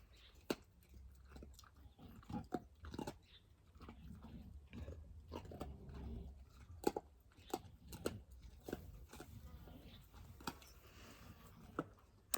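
A dog named Sprocket chewing loudly nearby, irregular sharp crunching and gnawing clicks spread across the stretch with soft background noise and no speech.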